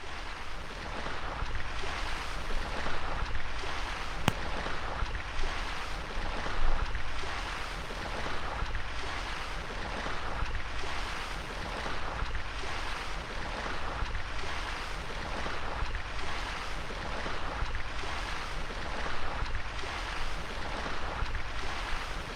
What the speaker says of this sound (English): This is a recording of the Puget Sound.